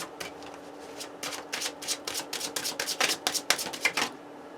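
Tarot cards are riffled and shuffled by hand in a steady run of papery bursts, close and fairly quiet, growing busier toward the end.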